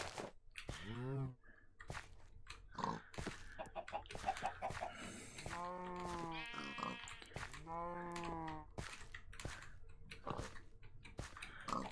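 Chickens clucking and squawking in the video game Minecraft Skyblock, a series of repeated bird calls with other animal sounds mixed in, fairly close and clear.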